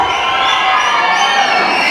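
A large audience at a Kannada film song launch for Royal in Tumakuru, with many students present, cheers and shouts loudly in a continuous, close roar of voices and whistles.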